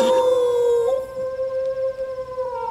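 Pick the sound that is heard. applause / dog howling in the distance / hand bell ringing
dog howling in the distance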